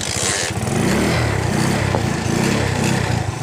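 Motorcycle engine running close by, a loud rough idle with a steady low putter and slight rises in revs, continuous throughout the short stretch.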